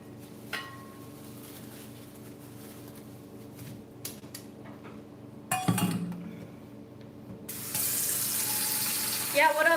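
Tap water runs into a kitchen sink while rice is rinsed, a steady splashing rush that swells louder toward the end, with scattered clinks of dishes and utensils around it.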